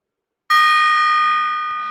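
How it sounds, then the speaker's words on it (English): A small baby gong is struck once after a short silence and gives a bright, shimmering metallic ring that sustains and slowly fades, close and clear with no talking. "I know it's a baby gong."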